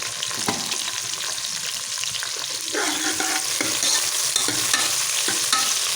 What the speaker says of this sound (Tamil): நல்லா வதக்கி எடுத்துருவோம் எல்லா காய்களையும் சேர்ந்து பொன்னிறமாக வரட்டும்